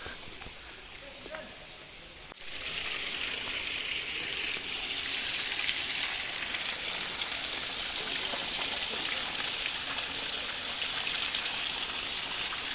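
Steady rushing water, like a stream flowing nearby, starting softer then swelling into a constant loud gush that fills the background.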